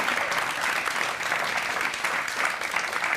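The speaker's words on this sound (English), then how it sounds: "I believe that deserves a round of applause, right guys?" Audience applause at a university media event in Stuttgart, Germany: steady, dense clapping from a room full of people, loud and sustained throughout.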